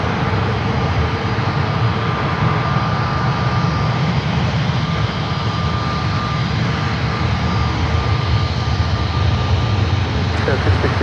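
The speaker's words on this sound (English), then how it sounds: "Heavy Airbus from final number 2 right over there." A heavy Airbus jet airliner on final approach at San Francisco airport makes a loud, continuous, broadband engine roar with a steady whining tone, constant in level and close by throughout, with no speech.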